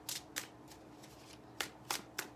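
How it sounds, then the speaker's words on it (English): Tarot cards being shuffled by hand in a quiet room, a series of short papery riffles and slaps, several crisp bursts close to the mic with brief pauses between, no talking. "I feel like one more shuffle and we're good to go here"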